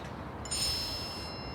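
A single soft electronic ding from a phone announcing an incoming message, a brief bright tone ringing out over quiet room noise with no one speaking.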